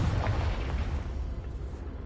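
A Confringo or Bombarda spell explodes in the Hogwarts Legacy video game on PS5, a loud, rumbling blast that opens strong and decays into a low, sustained roar across the whole moment, with no talking.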